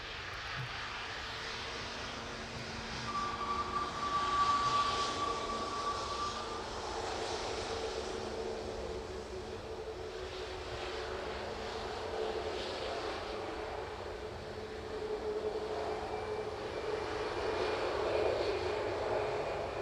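Jet airliner arriving at East Midlands Airport in the evening, a steady distant engine roar that swells and fades over about twenty seconds, with a faint whine drifting through the middle.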